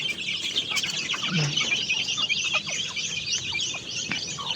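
Many birds calling at once in a busy, continuous chatter at a chicken farm, with occasional low clucks from fowl mixed into the steady din.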